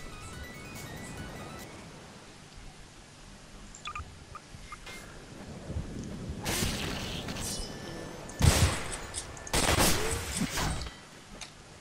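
Gunfire aimed at a drum in Garry's Mod: quiet ambience, then several sharp bursts of shots growing louder toward the end.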